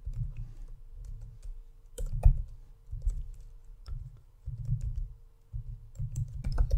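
Keys on a computer keyboard tap out a column name in a steady run of soft, close clicks, pausing briefly between bursts, with a low room hum underneath.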